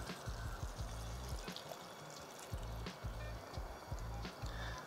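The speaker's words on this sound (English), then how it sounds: "I'm just gonna add the broth back onto the beef" Broth is poured back onto cooked beef in a pressure cooker, a low gurgling splash of liquid with soft sizzling beneath, continuous for a few seconds.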